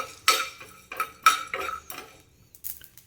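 Whole pepper, cumin, coriander seeds, unpeeled garlic and dried red chillies dry-roasted in a pan, with a few distinct metallic scrapes and clinks of a spoon against the pan in uneven bursts, close and moderately loud.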